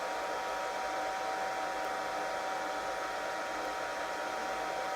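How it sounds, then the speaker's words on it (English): A hairdryer blowing on a puppy after its bath, a loud, constant close-up rush of air with a steady motor hum throughout, no voices. "before you progress to a hairdryer."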